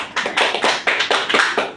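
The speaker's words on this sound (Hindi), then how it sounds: "उनके लिए जोरदार ताली" Audience applause at a DXN business presentation: a short burst of steady, rhythmic group clapping, close and fairly loud.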